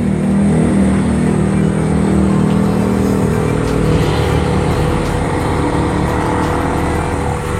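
A Honda Civic EK engine, just fitted with new spark plugs, runs steadily at idle up close with a continuous low hum and even mechanical rumble.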